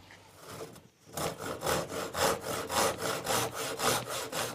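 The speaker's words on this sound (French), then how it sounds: "Et on coupe à la scie." A hand saw cuts through wood in steady back-and-forth strokes, about a dozen rhythmic rasping pulls after a brief pause, close and fairly loud.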